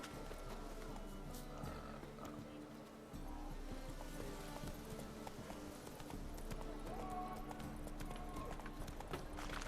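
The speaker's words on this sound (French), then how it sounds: "Mon cheval. Il est là." Horse hooves clip-clopping in The Witcher 3: Wild Hunt, a steady rhythmic trot under a constant low game rumble and music, with someone talking over it.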